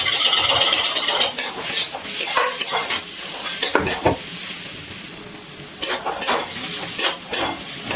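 A metal spatula scrapes and clatters against a pan while banana flower with small prawns is stirred and fried over a medium flame, rhythmic irregular scrapes over a soft steady sizzle, close and fairly loud.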